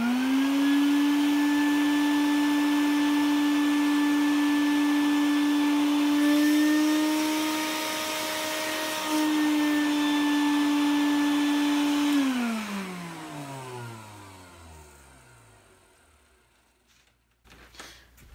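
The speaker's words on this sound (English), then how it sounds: "stick the end of the shop vac over the barrel, turn it on and feed the string through." A shop vac runs over an air gun barrel, a loud steady motor drone that switches off after about twelve seconds and winds down in falling pitch, ending with a few faint clunks.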